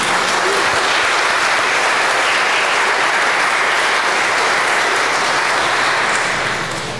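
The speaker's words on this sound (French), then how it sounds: "On peut applaudir toutes ces personnes." A congregation applauds during Mass in a church, a broad, dense and continuous round of clapping at steady loudness, tapering off slightly at the very end.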